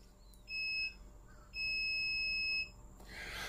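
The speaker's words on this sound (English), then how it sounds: "that is my hit timer. So in about 2 minutes and 20 seconds, another beep will happen" An interval (HIIT) workout timer sounds two electronic beeps indoors, a short tone followed by a longer sustained one, clear and fairly loud over quiet room tone.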